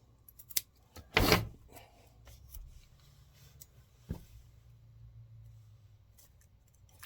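Scissors trim the tape-wrapped end of a Regal Tip drumstick, giving one loud cutting burst followed by a few faint snips and rustles close to the microphone.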